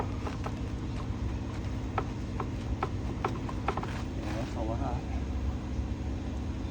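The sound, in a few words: gears clunking from too much lash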